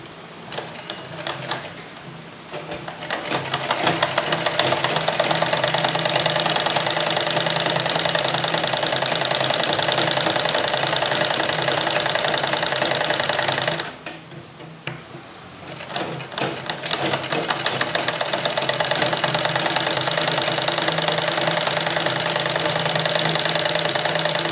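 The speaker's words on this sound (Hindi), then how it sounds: "ओके आप सिलाई करना शुरू करेंगे।" A sewing machine stitching the sleeve of a suit runs in long fast continuous bursts, close and loud, with a brief pause in the middle, and no voices over it.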